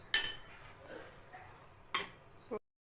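Batter for bread pakora mixed in a bowl, with a few sharp spoon clinks against the bowl, soft scraping between them, then quiet.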